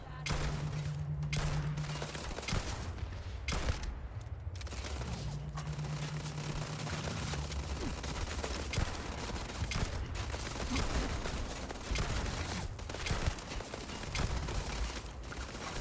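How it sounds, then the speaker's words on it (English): Machine guns firing in Starfield, a sustained rattling barrage of rapid shots layered with game noise, steady and loud throughout, with a voice talking over it. "The machine guns going off."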